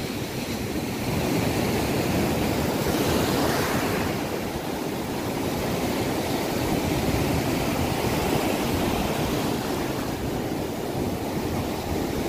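Surf rolls onto Praia da Armação beach in Penha, Santa Catarina, on a hot Sunday, as a continuous close wash of breaking waves roughened by wind buffeting the microphone.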